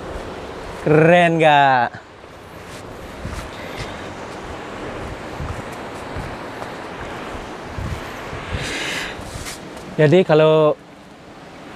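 Surf washes continuously at Bingin Beach in Pecatu, a broad steady roar of ocean waves heard from nearby, with wind buffeting the microphone and a person speaking briefly at the start and end.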